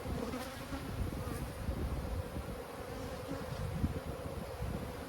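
Bees buzzing steadily around an abandoned hive box holding bees and honey, a dense continuous drone of many insects close by, with no talking.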